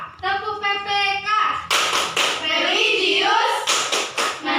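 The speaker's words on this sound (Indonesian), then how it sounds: "Ayo teman-teman, melanjutkan untuk tepuk PPK." A group of schoolchildren in a classroom perform the PPK clapping chant, with loud sharp hand claps mixed into their rhythmic chanting voices.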